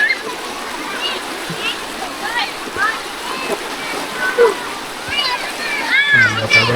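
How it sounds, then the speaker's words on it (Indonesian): People swim and splash in a river pool at a village tourist spot, with water splashing, a steady stream flow and children's voices mixed through the scene. "Pada berenang, pada berenang."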